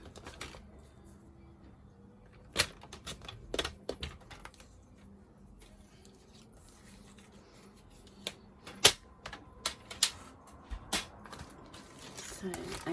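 Paper is cut with a trimmer for a card-making project: scattered sharp clicks and slicing snaps, some in quick clusters, over a quiet room.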